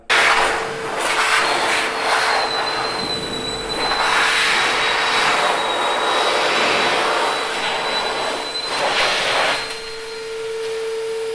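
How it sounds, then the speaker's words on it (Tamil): An AGARO Ace wet and dry vacuum cleaner in blower mode runs steadily with a loud, continuous rushing roar and a thin high whine, its airflow wavering slightly before it settles lower near the end. "இந்த ப்ளவரோட பவரை அப்படியே அடித்து தூக்கிட்டு போகுது"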